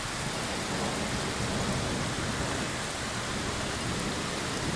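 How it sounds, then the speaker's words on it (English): Heavy thunderstorm rain pours down in a dense, unbroken roar, loud and close all the way through, with a low rumble beneath. "Look how much rain we're getting right now."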